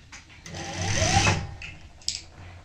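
A sewing machine runs a short burst of stitching, joining triangle-shaped sleeve fabric pieces in a boutique. The motor whirs steadily near the mic, then stops, followed by a couple of faint clicks.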